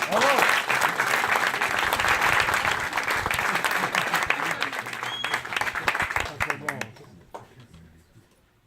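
Audience applause welcoming a volunteer onto the stage at a magic show in a small theatre, dense clapping from a crowd that stays steady before tapering off and fading out near the end.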